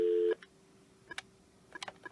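A Meridian business desk phone gives a steady call tone that cuts off after a moment, followed by a few faint clicks and short blips as dialing starts on the system.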